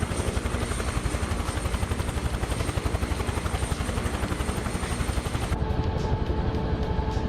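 Helicopter in a flight simulator game, a loud steady rotor chop with rapid rhythmic blade thumps and turbine whine running throughout, the high whine dropping away near the end.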